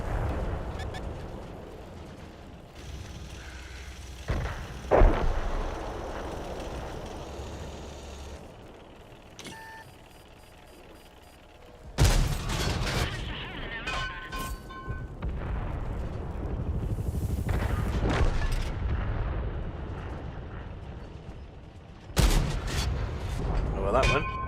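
Tank autocannon bursts and heavy artillery blasts from a Cold War modern-armor battle in World of Tanks, loud rapid volleys and booming impacts in several clusters, with a voice talking between them.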